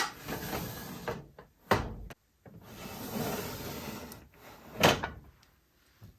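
A makeup drawer holding discontinued foundations slides open and shut with wooden rubbing scrapes and a few sharp knocks, close and fairly loud, with quiet pauses between.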